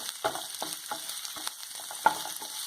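Soya chilli sautés in a hot pan, a continuous sizzle broken by several quick, evenly spaced stirring scrapes, close and clear, with no talking.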